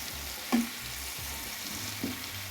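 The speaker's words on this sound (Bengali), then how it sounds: "রূপসন্দা মাছ কষিয়ে নেব খুব ভালো করে কষিয়ে নিলাম" Pomfret fish (rupchanda) frying in a pan for a curry, a soft steady sizzle with two brief stirring knocks, no talking.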